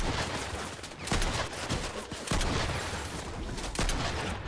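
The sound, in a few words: gunfire in a video game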